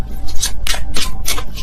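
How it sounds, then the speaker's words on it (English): A deck of tarot cards is shuffled by hand in close, loud riffling bursts, about four quick papery flurries with brief pauses between them. "If I could shuffle this deck."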